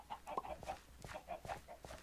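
Minecraft chickens clucking in a short run of quick, choppy calls, fairly close and clear, with no voices over them.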